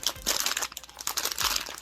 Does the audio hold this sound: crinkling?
yes